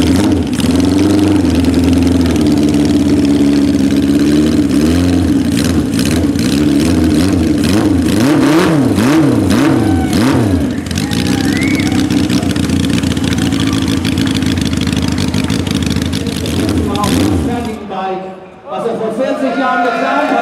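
A custom motorcycle engine at a custom bike show idles and revs with a loud, rumbling exhaust, pulsing through throttle blips before cutting off near the end, with a voice talking over it.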